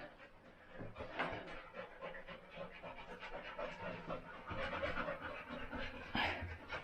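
A dog pants steadily and close by inside cool, dim stone ruins, quick rhythmic breaths that stay soft but continuous throughout.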